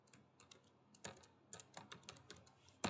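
Someone types code on a computer keyboard, quiet, irregular key clicks in short bursts with brief pauses and a sharper keystroke at the very end.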